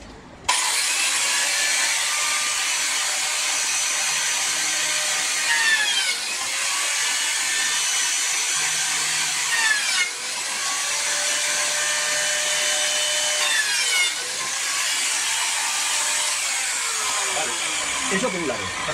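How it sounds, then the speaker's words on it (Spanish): A power tool cuts grooves into wood for a wall-hung bathroom cabinet with a loud, continuous high whine. The pitch dips briefly several times as the cut proceeds along the traced lines. "Vamos a seguir haciendo las canales por donde habíamos trazado previamente."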